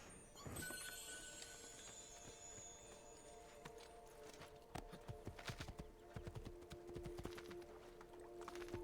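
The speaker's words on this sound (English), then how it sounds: "You hear horse steps?" Horse hooves clip-clop steadily across the ground in the Assassin's Creed 2 video game. They sit among dense in-game ambience, with a sharp hit near the start and the steps growing busier later.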